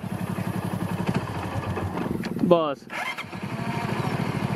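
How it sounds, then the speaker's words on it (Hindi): A motorcycle engine running on gas from carbide rock, idling with steady rough pulsing and a brief revving flutter midway, up close under ongoing talk. "और ये देखिए बाइक चालू है"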